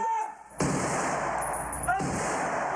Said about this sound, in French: Une grenade.